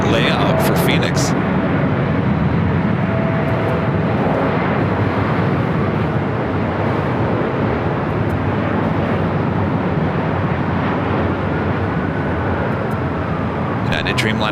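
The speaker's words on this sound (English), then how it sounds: "United Dreamliner taking off there on the south side." A United Dreamliner takes off on the south side at LAX, heard as a steady broadband jet roar that holds throughout, with a voice talking over it.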